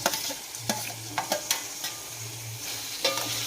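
Green tomato and carrot sambharo stirred in a pan, a spoon scraping and clacking in irregular strokes over a continuous loud sizzle, close and without speech.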